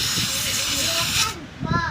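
Contact cleaner sprays from an aerosol can onto the circuit board of a Sanyo 21-inch flat-screen CRT TV in one loud, close, sustained hiss that stops abruptly, followed by someone speaking.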